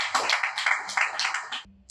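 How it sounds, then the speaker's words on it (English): Applause for donors at a meeting for a mammography machine project: a short burst of scattered hand claps from a small group, close and brisk, ending abruptly. "I think we need a very big round of applause for all the donors"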